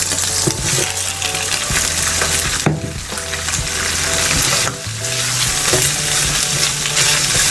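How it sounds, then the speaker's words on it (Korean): Green onion and vegetables stir-frying in a generous amount of oil for spicy fried squid, a loud steady sizzle broken by scraping stirs and occasional clinks of the utensil against the pan. "기름을 두르자마자 대파 대파 넣고 한 1분 정도 볶아준 다음에 야채를 집어 넣고요"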